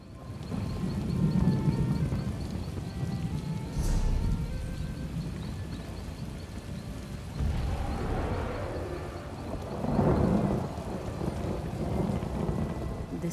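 Thunderstorm with steady rain in the video game The Elder Scrolls Online: a constant hiss of rainfall, with low rolling thunder swelling several times, at moderate volume and without voices.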